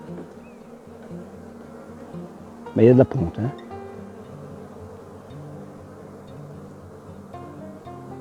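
A steady swarm of honeybees hums and buzzes close by in an open hive while a person talks over it, with a brief louder rustle partway through.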